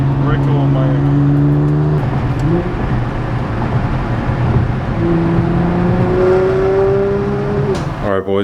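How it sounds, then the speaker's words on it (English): Nissan GTR driving through Miami, its engine droning loud and close with rising and falling pitch as it accelerates and shifts, with people talking over it. "we're whipping the GTR through Miami"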